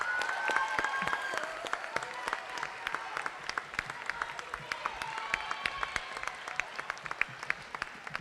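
Applause at the Galvin Moving On Ceremony 2024 rolls on as a fairly faint, distant patter of many hands, with sharper individual claps popping out near the end and a few voices murmuring beneath.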